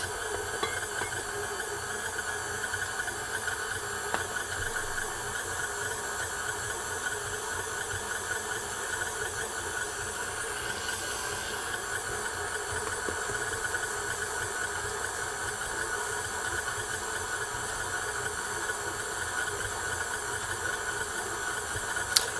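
A KitchenAid stand mixer kneads bagel dough with a steady, even motor whir and hum, close and constant, with no voices.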